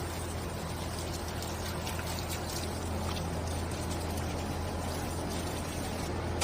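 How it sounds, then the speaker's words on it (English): Garden hose spraying water onto the coils of an outdoor HVAC unit, a continuous close hiss of spray under a steady low hum with no talk. "just hose down the coils and just cool them off."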